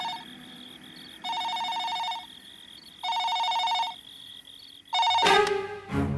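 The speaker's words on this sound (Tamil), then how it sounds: "ஃபோன் பண்ணி அடிக்குது பாரு" A telephone rings in a home in three evenly spaced bursts of bright trilling tones, loud and close, with a short clatter at the end as the handset seems to be picked up.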